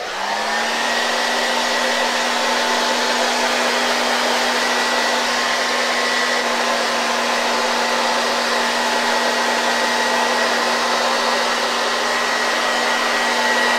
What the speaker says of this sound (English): going to dry it really good with the hair dryer